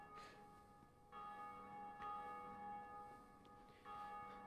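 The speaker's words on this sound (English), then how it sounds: "a lot of people ringing the bell" A large bell in the video game Dark Souls tolling repeatedly, each stroke a sustained ringing tone that overlaps the last, heard at moderate distance.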